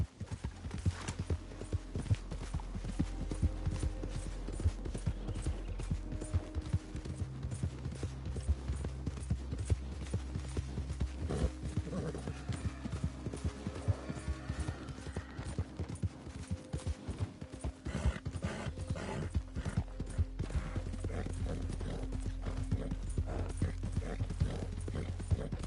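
Horse galloping in Red Dead Redemption 2, a fast continuous clip-clop of hooves running through the whole stretch with a brief spoken command.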